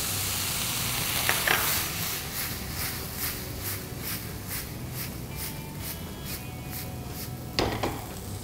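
Prawns, squid and boiled potatoes frying over high heat for a fish pie, a steady close sizzle with a faint regular scraping of stirring and a couple of sharp utensil knocks.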